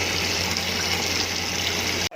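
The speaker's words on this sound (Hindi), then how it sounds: "ठंडे पानी से आप इसे अच्छी तरह से वॉश करेंगे।" Cooked spaghetti is rinsed under a steady, loud stream of cold tap water for about two seconds before the flow cuts off sharply.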